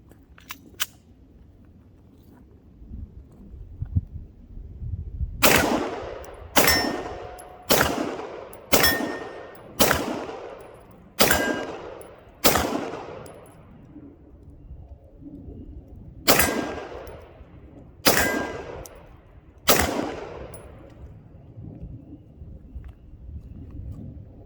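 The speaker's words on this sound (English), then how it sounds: "now we're going to go and try some of my 124 grain lipstick bullet reloads" A Tisas Zigana PX9 Gen 2 9mm pistol fires 124 grain lipstick-bullet reloads outdoors: eleven sharp, loud shots in a quick run, then a short pause and three more, each with a ringing tail.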